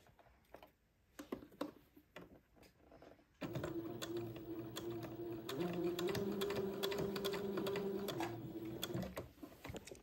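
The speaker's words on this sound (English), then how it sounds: "sewing to the right keeps us from piercing the pleating thread and gives us a tiny little seam" A sewing machine stitches a tiny seam on pleated fabric, starting after some quiet handling clicks and then running in a steady close humming whir for several seconds before easing off.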